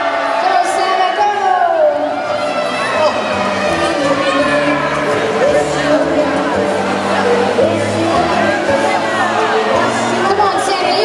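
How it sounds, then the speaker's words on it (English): An audience cheers on Santa Claus at a Christmas event, a dense crowd roar of shouts, whoops and chatter held steadily throughout, close and loud, with voices calling out over it. "Everybody cheer him on. Go, Santa."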